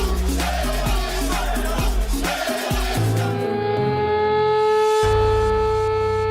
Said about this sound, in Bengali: আমাদের সাইরেন বেজে গেছে